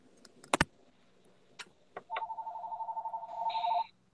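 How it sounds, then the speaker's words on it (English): A mobile phone ringing nearby, a steady repeating electronic ringtone pulse that starts after a few sharp clicks and bumps and runs for about two seconds with no talk. "I have to answer my phone."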